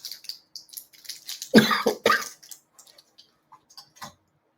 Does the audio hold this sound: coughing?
yes